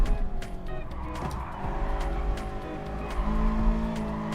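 Cold tyres squeal and skid as a race car's rear slides out at the Nürburgring GP circuit in a racing game, with a steady engine drone under a continuous screech.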